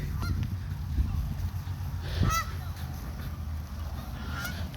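Waterfowl honk while people feed ducks outdoors. A few scattered honks stand out, with one loud, close call in the middle and fainter ones later, over steady outdoor background noise.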